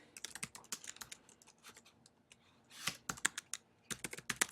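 Rapid typing on a computer keyboard, with irregular bursts of clicky keystrokes separated by brief pauses, close and fairly quiet with no talking.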